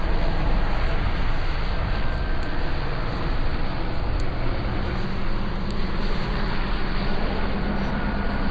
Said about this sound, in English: helicopter up in the sky.